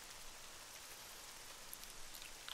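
Steady rain falls in the tactical game Silent Storm as a constant, hissing wash with faint scattered drop ticks, moderately quiet and alone, with no voices.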